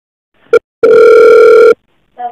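A mobile phone call to a Vodafone customer care line rings out over the handset: a short beep, then a long steady ringback tone, and the start of another tone, loud and close.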